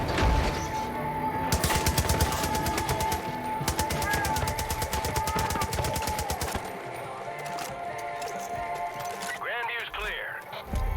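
A mounted machine gun in Far Cry 5 hammers out long, fast, evenly spaced bursts, loud and close, with a steady background tone and players talking over the firing.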